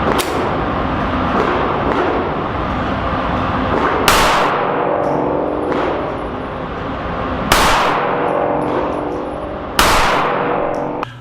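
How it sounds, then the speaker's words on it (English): Three sharp, loud gunshots from a Sig Sauer P365 pistol in .380 ACP firing ARX ammunition, spaced a few seconds apart over a steady background noise, each with a brief echoing tail. "I had no issues shooting a few rounds out of here, as you can see below, or see here."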